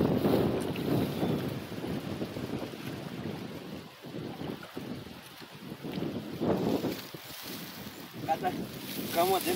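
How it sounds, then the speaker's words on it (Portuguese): Wind blowing at a fishing pond, a steady rushing buffet with low rumble across the microphone, continuous and fairly loud, with brief faint voices in the background. "Já tá ventando bem aqui, viu?"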